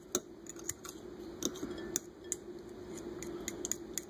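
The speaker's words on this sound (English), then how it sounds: "grab your fork. Kind of stir them up." Fork stirring eggs and milk in a bowl: a quick, uneven series of light metallic clinks and taps against the dish over a quiet background.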